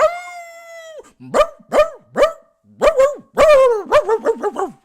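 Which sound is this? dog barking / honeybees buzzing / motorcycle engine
dog barking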